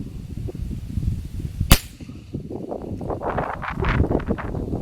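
A single sharp rifle shot from a CZ455 Varmint with a 12-inch barrel, fired across an open field toward a 450-yard target in strong wind, cracks loudly once amid steady wind buffeting and background speech.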